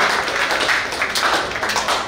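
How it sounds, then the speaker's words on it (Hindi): Audience at a Rajasthan state powerlifting bench press and deadlift championship clapping in a steady, dense wash of applause that holds level throughout. "सर थोड़ा तो तालियां सबने बजानी जोश के साथ"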